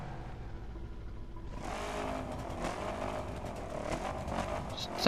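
A car engine in The Crew's demo mode starts up after a quiet moment and then revs repeatedly, close and fairly loud, with a sharp burst at the very end.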